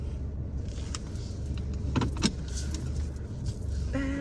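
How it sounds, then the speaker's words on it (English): A car backs up in a parking lot, with a steady engine hum from inside the cabin, a few clicks and jangles, and an electronic reversing beep starting near the end. "Backing up the car."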